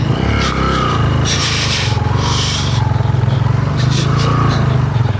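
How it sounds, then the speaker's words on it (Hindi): A motorcycle bogs down on a rough off-road track in a mountain valley, its engine throbbing loudly and close while bursts of scraping and rubbing come and go. "अटक गई थी भाई बाइक।"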